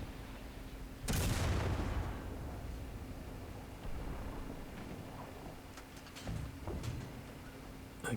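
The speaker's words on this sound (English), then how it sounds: "now I got arty coming in on me" Artillery shells landing near a T 20 American medium tank in War Thunder: one heavy, booming impact with a long rumbling tail, followed by fainter distant blasts and scattered cracks.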